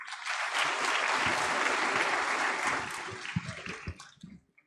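A burst of enthusiastic applause from an award ceremony audience in an auditorium, steady at first, then thinning to a few scattered claps before stopping.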